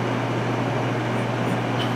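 Hood-style hair dryer running steadily, a constant broadband whoosh with a low hum, close and even throughout with no talk.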